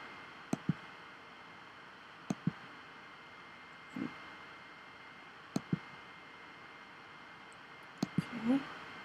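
Computer mouse clicking while working with a pen tool in drawing software, faint quick clicks in pairs spaced a couple of seconds apart over a quiet hiss.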